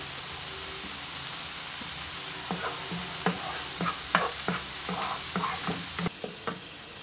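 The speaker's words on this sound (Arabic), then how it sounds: "هنا نتسناو حتى تشحر البصله مزيان" Chopped onion frying in a pan, a steady hiss with irregular scraping knocks as a spoon stirs it, close and moderately loud, no voices.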